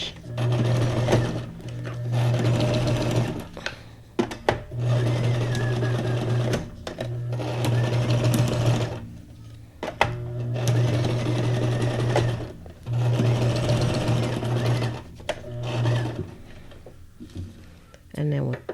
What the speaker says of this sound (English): So I'm just going to sew this on. And I'm going to do like a back and forth straight stitch.